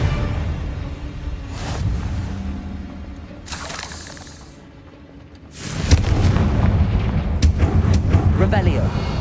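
Confringo fire spells exploding in the Hogwarts Legacy video game, heard as several loud blasts and crackling bursts with booming rumble, mixed with game voices and combat noise.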